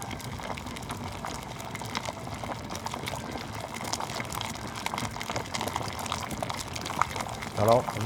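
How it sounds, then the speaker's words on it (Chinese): A vegetarian New Year dish coated in potato and taro mash sizzles and bubbles as it deep-fries in oil, a steady crackling hiss close by under a person talking. "我们就开始来炸来帮它做一些油炸定型的动作"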